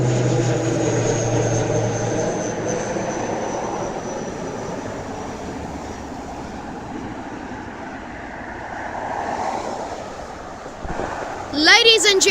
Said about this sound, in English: This is an ATR 72-600 series.